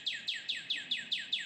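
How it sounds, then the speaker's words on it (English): A small bird gives seven quick, evenly spaced high chirps, fairly faint and alone without any talk. "Yeah, you got an agreement from the bird there"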